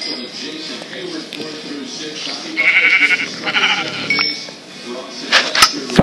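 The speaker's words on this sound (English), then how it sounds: "Here, I got another sheep here." Sheep in Minecraft (Pocket Edition) bleat in a couple of wavering calls, mixed with clicks and other game sounds, while muffled voices talk.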